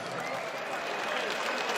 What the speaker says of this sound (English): let's get a nice round of applause out here for both of these fighters